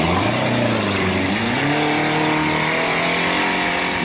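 Trials car engine revving hard while stuck in thick mud at a trials championship course, a loud continuous roar with rising and falling pitch as the throttle is worked, heard alone and close.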